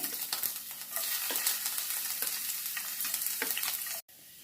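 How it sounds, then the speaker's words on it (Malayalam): Chopped ginger and garlic sizzle steadily in hot oil with mustard seeds and curry leaves, with light stirring scrapes for about four seconds before an abrupt cut near the end. The sound is close and has no talk over it. "അതിലേക്ക് നമ്മൾ ചെറുതായി അരിഞ്ഞ ഇഞ്ചി വെളുത്തുള്ളി ചേർത്ത് കൊടുക്കുകയാണ്"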